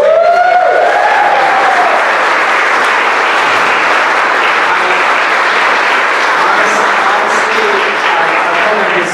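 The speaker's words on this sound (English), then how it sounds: "can we please give a round of applause to Tina Takamoto?" A crowd applauds the dean at an evening university comics talk, a loud, sustained round of clapping that stays even throughout; a voice or two briefly sounds at the very start.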